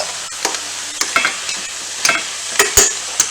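Pork, pepper and zucchini mixture being stirred in a hot pan for a mac dish, with a steady sizzle broken by several sharp scrapes and clacks of the utensil against the pan, close and fairly loud, with no talking.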